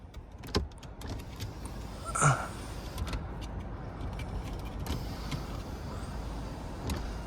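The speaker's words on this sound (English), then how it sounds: "Oh, there goes the sunroof." Power sunroof motor opening on a 2019 BMW 750i, a faint whirring hum inside the quiet cabin with a few soft clicks and knocks.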